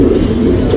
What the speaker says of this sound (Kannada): ಇವಾಗ ಏನು ಜಸ್ಟ್ ಒಂದು ಮಕ್ಷಿಯಲ್ಲಿ ಪಿಲಾಂಕ ಗಂಡು ತೋರಿಸ್ದೆ